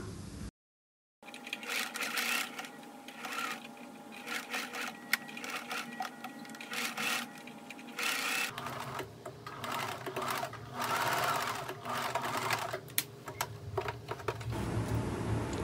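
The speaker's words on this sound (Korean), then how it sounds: "점선으로 표시한 부분에 이 부분을 따라서 박음질을 합니다." A sewing machine stitches along the collar seam of a cropped jacket in a close, steady, rapid mechanical chatter. The needle runs continuously with slight changes in speed and a short pause near the start.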